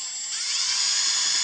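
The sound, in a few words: drill bit drilling into log turner set screw point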